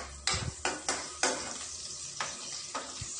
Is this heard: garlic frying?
yes